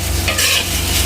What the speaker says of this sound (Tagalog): Haluin natin para mahalo yung lasa niya.